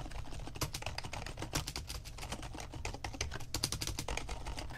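Continuous typing on a Rosewill Neon M51 gaming keyboard recorded close, about six inches from the keys, giving dense, crisp clicking keystrokes with no voice over them.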